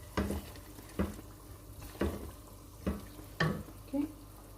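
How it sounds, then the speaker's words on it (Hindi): Dry spices for beef nihari being stirred as they fry in a pot, with five distinct scraping strokes of the spoon spaced about a second apart over a low steady sizzle. "इसको अच्छी तरह से मिक्स कर लें ताकि कच्चे ना रहे मसाले"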